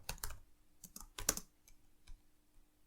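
Keys clatter on a computer keyboard in scattered bursts of quick taps with pauses between, fairly quiet, as code is typed in a Python lesson, with no voice over it.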